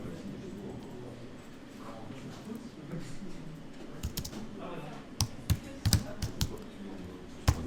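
Keys tapped on a computer keyboard in an Adobe InDesign session, a quiet bed of murmuring speech and background noise giving way to a handful of crisp, scattered key clicks near the end.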